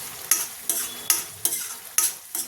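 Masala sautés in a pan over medium gas, with a utensil scraping and stirring in about six regular strokes over a soft continuous sizzle, close up and with no talking.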